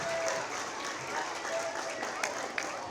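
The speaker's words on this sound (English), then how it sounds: "give yourself a round of applause" Children at a school assembly applaud in a steady wash of dense clapping that is moderately distant and fairly faint, without a clear break.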